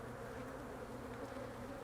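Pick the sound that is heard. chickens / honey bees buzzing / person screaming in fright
honey bees buzzing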